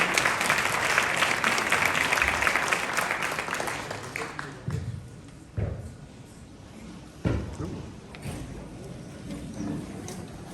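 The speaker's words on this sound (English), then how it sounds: "Another round of applause for this amazing black man." Audience applause at a university Q&A event in Toronto, a dense burst of clapping that fades after a few seconds, then scattered thumps and knocks with talk nearby.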